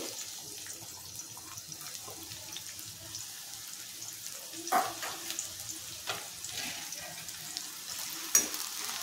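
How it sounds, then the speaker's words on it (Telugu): Chopped onion frying in hot oil in a pan, a quiet, even sizzle punctuated by a few spoon knocks and stirring scrapes, nearby and unaccompanied by talk. "ఈ ఉల్లిపాయలు దోరగా వేగనిద్దామండి"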